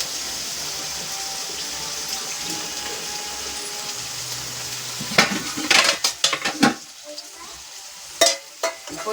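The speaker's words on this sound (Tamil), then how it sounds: "தக்காளி கொஞ்சம் வதங்க வைப்பேன்." Tomatoes sautéing with a little salt in a pan give a steady, close sizzle, then several sharp clinks and scrapes as a utensil stirs them against the pan.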